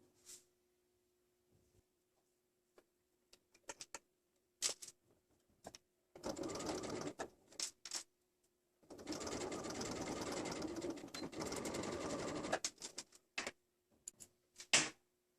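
Sewing machine stitching the side and upper seam of a women's jumpsuit, sounding in two sustained runs of rapid whirring separated by short pauses, with scattered clicks and handling noises between bursts.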